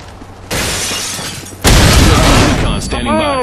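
A flashbang grenade in a shooter video game goes off as two sharp, loud bursts with a harsh crackling tail. The second blast is bigger, and a ringing whine follows it.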